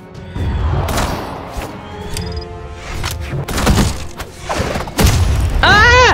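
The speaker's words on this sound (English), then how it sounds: "I just ran into my own bomb!" A bomb going off in the Brawlhalla fighting game amid a team battle, heavy booming thuds and crashes landing in a busy flurry of game effects, with a person talking over them.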